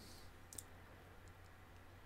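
A computer mouse right-click in Magix VPX editing software sounds as one small, faint click over a steady low hum and quiet room noise.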